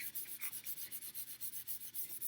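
A cloth or pad is rubbed back and forth across a chalkboard with rubbing alcohol to lift liquid ink, making quick, regular, faint scrubbing strokes in a steady rhythm with no talk.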